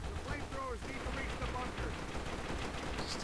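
Gunfire in the video game Call of Duty: World at War, a solo campaign mission, with rapid automatic bursts crackling through a busy battlefield din, steady and fairly loud, with voices mixed in.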